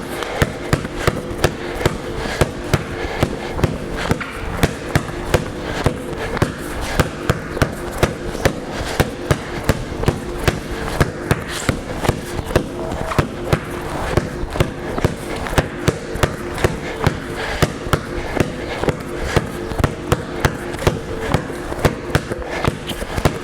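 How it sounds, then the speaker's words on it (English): A basketball is dribbled hard and fast on a gym floor during a side-to-side windshield wipe dribble drill, producing a dense, steady stream of loud, close bounces throughout with no talk. "always getting to your opposite hand for that windshield wipe dribble"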